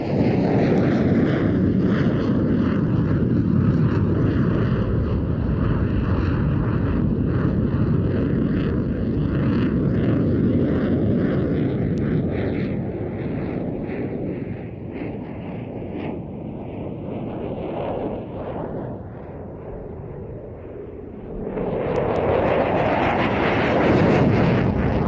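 A fly-by-wire fighter jet makes a high alpha pass at an air show, a loud sustained roar with a slowly falling whine that eases off, then swells again at the close.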